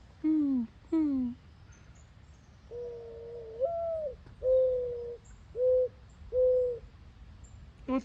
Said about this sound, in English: You're Mr. Pigeon. Coo. Coo. Coo. Coo